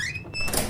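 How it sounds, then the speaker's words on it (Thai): A door in Garry's Mod opens or closes nearby with a brief squeaky, creaking swing and a soft knock, fairly quiet against game background noise. "ได้ยินเสียงประตูใกล้ๆนะแต่ว่าน่าจะอยู่ไกลอยู"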